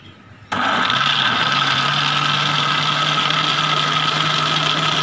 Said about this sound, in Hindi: और अब इसको ग्राइंड कर लेना है।